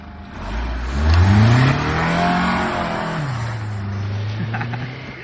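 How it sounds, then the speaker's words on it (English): Honda CR-V on worn, treadless tires doing a launch-control start, engine revving hard and rising in pitch, then holding a loud strained drone as the wheels spin, close and unaccompanied by speech. "Ready for a CRV launch control?"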